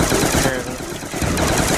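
Rapid automatic gunfire rips through a Black Ops 2 Zombies match, loud and continuous from start to finish, with a voice faintly mixed in beneath the shooting.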